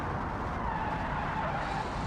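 A 70s Soviet car in the Automation game braking hard with weak brakes, a steady tyre skid and engine hum held for about two seconds at fairly close range.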